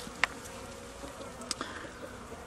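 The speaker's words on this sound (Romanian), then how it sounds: "familii de albinuțe care au supraviețuit" Honeybees buzzing around hives at an apiary, a quiet steady insect hum with a few sharper close buzzes passing by, no talking.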